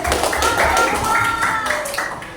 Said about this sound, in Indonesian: Tepuk tangan buat Bagas.